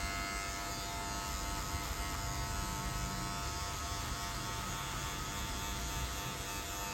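Electric hair clipper running continuously during a low fade haircut, a steady close buzzing hum with bright harmonics that holds an even level, no talking.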